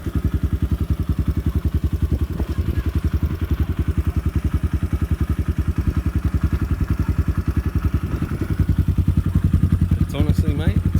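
A Gmx 250cc X Series motorbike riding on a small track, its single engine thumping in a steady, loud, even pulse close to the microphone, with a brief rattle near the end.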